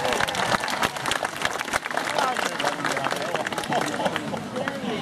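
A convention crowd at a cosplay prize ceremony keeps up dense, steady applause with some voices mixed in, filling the hall evenly.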